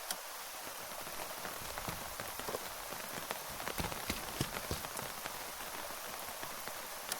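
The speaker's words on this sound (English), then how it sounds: "the rain's not exactly helping things now either" Rain falls in Terminus Last Escape, a soft, steady hiss of drops on surfaces with scattered sharper taps, faint and continuous, no voices.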